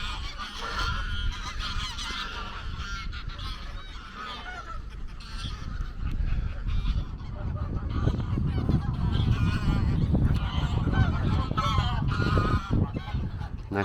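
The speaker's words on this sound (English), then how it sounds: "Oh my word, I didn't realise there were so many geese" Many geese at a boating lake keep up a noisy, unbroken chorus of honking, close and loud, the overlapping calls building in intensity through the second half with no voices over them.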